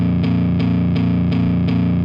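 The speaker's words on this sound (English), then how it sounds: "So if you got some heavy distortion stuff going on, hit those power chords and it'll sound good" Heavy distorted power chords from an Ampire amp simulator driven by a chord track ring out in a steady rhythm, each thick, buzzing chord struck about every third of a second, loud and sustained with no talking.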